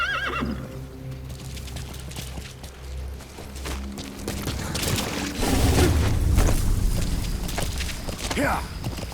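A horse whinnies amid sound effects and rumbling in the video game Metal Gear Solid V, with hoof clops and a second rising whinny near the end.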